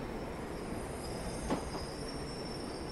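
A train pulls away from a station in the Train Life railway simulator game, giving a steady, even rumble with a faint wheel squeal and a thin high whine running throughout.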